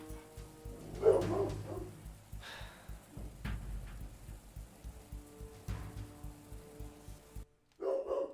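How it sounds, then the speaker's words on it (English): A pet dog barking indoors, several short gruff barks spread unevenly across the span, fairly faint and distant-sounding against a quiet room. "My dog is barking."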